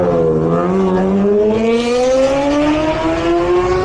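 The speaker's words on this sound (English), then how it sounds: "Big BM sounding good." A BMW superbike racing at the Isle of Man TT roars close by, its engine note climbing steadily as it accelerates hard through the gears, loud and alone with no talk.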